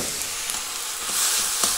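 Sesame oil drizzled at the edge of a hot pan while making fried rice sizzles in a steady, close frying hiss that grows slightly louder toward the end, with no talking.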